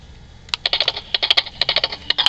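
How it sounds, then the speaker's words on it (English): A 1996 Empire Industries plastic toy horse plays an electronic galloping sound: a quick, irregular run of sharp clicks and taps with no talking, close and fairly loud, starting after a short quiet lead-in. "you hear it makes a galloping noise."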